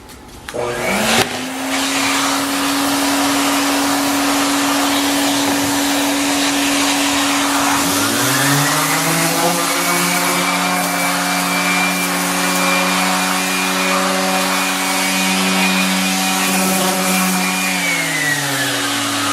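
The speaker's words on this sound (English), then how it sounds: "So now I'll stick the dust collector on there and try sanding with the dust collection" An orbital sander with a dust collector attached whines steadily with a vacuum-like roar, then a second higher motor drone joins partway through, both running loud and continuous until shutting off.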